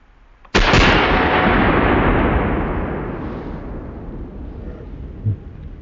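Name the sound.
shotgun firing Triple Threat slug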